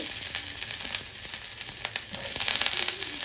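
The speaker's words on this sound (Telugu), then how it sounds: "కట్ చేసి పెట్టుకున్న వెల్లుల్లి, అల్లం ముక్కలు, అలాగే పచ్చిమిర్చి ముక్కలు, అలాగే ఆనియన్స్" Garlic, ginger, green chillies and onions fry in a pan for Gobi Manchurian, giving a steady, close hiss of sizzling oil with small crackles and occasional stirring scrapes throughout.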